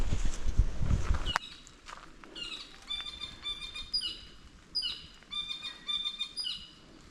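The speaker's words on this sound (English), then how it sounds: "Birds sound so amazing." Birds chirp and trill repeatedly in quiet woodland on Sanctuary Mountain Maungatautari, New Zealand, after a few rustling footsteps, their bright calls coming in short bursts from nearby.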